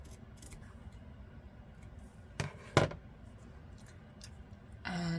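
Scissors cut paper for a junk journal in a quiet room: two crisp snips close together, with a few faint clicks and rustles around them and a louder rustle at the end.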